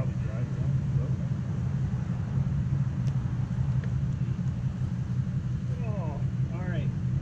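A 1990s Chrysler car, long left sitting, idles with a steady low engine rumble throughout, heard close and continuous, with voices talking faintly over it.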